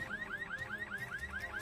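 A store alarm set off at a counter sounds a rapid repeating electronic warble, steady and fairly faint, with no voices.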